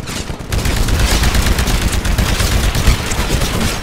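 Anti-Titan weapon fire in the Titanfall shooter game: loud, dense bursts of gunfire crowd together without a break, almost solid blasting across the few seconds.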